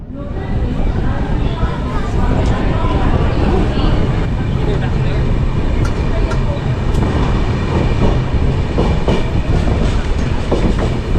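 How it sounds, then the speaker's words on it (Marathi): A passenger train from Mumbai LTT to Madgaon rumbles and clatters steadily along the rails at night, loud and close, with rhythmic clicking of wheels and a faint squeal at times. "तर चला आता मडगाव गाडी सुटले"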